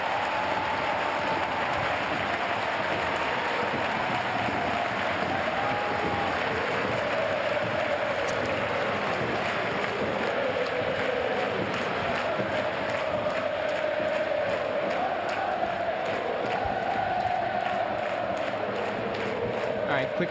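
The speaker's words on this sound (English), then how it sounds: "the fans are applauding" Huge stadium crowd at a women's Champions League football match between Barcelona and Real Madrid, a distant, continuous roar of applause and cheering from tens of thousands of fans, with commentators talking over it.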